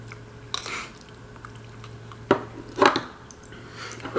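Someone chews a heaping spoonful of cold canned French onion soup onions, giving a few soft, wet, squishy bites with a spoon clink, close to the mic and otherwise quiet.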